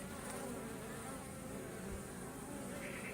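Dense, steady buzzing of many bees at a hive in winter, continuous and fairly close, with no speech.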